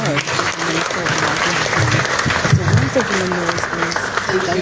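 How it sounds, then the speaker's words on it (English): An audience claps and applauds for the Honorable Minister at a ship commissioning ceremony at Mesurado Pier, sustained crowd clapping with voices mixed in underneath. "Shall we clap for the Honorable Minister?"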